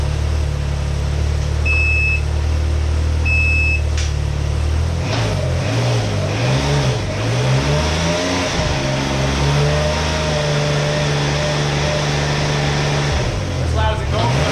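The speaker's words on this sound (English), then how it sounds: "I'm gonna jack it up a little bit so I can give you a little rev" A Can-Am Ryker with a new Brannon King exhaust idles loudly, then revs up and down in rising and falling swells before settling back to idle, close by, with a couple of brief beeps early on.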